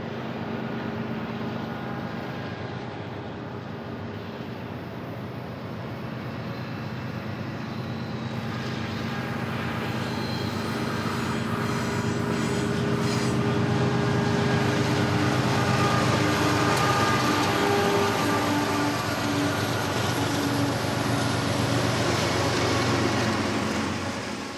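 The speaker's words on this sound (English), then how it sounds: "we caught a southbound BNSF with a rather impressive string of engines" A southbound BNSF freight train led by a long string of locomotives passes near Caliente in the Tehachapi area, a sustained diesel rumble and droning hum that swells as the engines draw closest and then holds steady.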